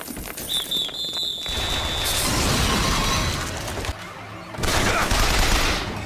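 Gunfire from a shootout in the video game BioShock Infinite, a dense fusillade of rapid shots and crashing impacts filling most of the stretch, loud and close, with a brief lull before another heavy burst.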